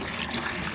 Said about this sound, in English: I'll go ahead and fill this thing up